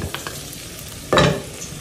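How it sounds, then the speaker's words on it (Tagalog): Garlic dropped into hot oil in a pot gives a sudden loud sizzle after a quiet moment with a few light clinks, the frying hiss then fading slightly. "pag mainit na yung ating oil, ilalagay na natin yung ating garlic."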